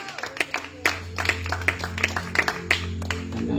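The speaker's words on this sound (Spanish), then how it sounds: "Dele palmas a Dios." A church congregation claps hands in worship, producing a roughly steady rhythm of sharp, loud claps with a sustained low tone underneath throughout.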